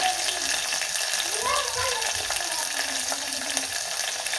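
Chopped green chilies sizzle and crackle in hot oil in a pressure cooker for quick masala rice, a steady bright hiss with a brief stirring scrape partway through.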